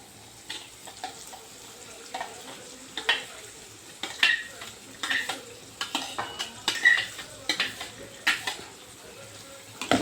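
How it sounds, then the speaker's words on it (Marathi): Spinach puree being added to cooking masala in a pan for dhaba-style palak paneer and mixed in, with a series of soft, irregular scraping and stirring clinks of a utensil against the pan. "आता यामध्ये आपण जी पालकाची प्युरी केली होती ती यामध्ये ॲड करून घेणार आहोत"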